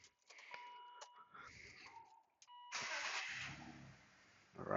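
A 2003 BMW 530 E39 with the M54 engine and a cylinder 3 misfire: several electronic warning chimes, then the starter cranks and the engine catches into a quiet, steady idle, with a sharp noise rising at the very end.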